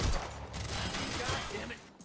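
Rapid bursts of automatic gunfire during a firefight in the video game Quantum Break, loud and continuous over about two seconds, with a voice shouting faintly beneath it.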